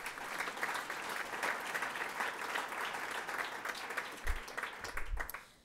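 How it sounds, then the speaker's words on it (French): Audience at a Geneva talent showcase applauding the project partners warmly, sustained steady clapping at moderate distance that tapers off at the end. "On peut déjà aussi applaudir tous les partenaires de ce projet très chaleureusement."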